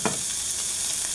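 A pot of boiling water on a stove is stirred briefly, giving a steady bubbling hiss with a faint clink near the start.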